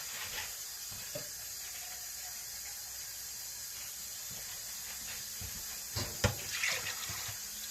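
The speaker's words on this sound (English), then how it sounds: "you're going to grab enough water to cover your whole surface" Water poured into a cooking pot of beans while making a burrito bowl, a steady hissing splash that stays fairly quiet, with a few brief louder clinks and gurgles near the end.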